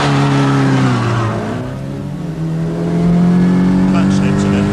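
A 1990 rally car accelerating hard along narrow roads, its engine roaring with steady rising revs as it gains speed and pitch, loud and close from inside the car.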